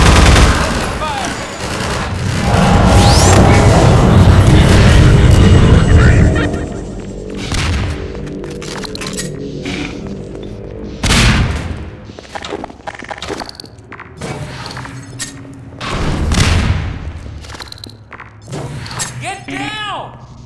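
Gunfire in the Half-Life 2 video game: loud bursts of automatic fire and booming shots, followed by scattered single shots and footsteps, with voices shouting between them.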